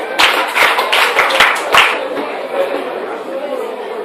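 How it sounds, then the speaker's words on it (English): A school audience claps together at an international school event, a short burst of scattered hand claps that fades into murmuring chatter. "Clap for yourself."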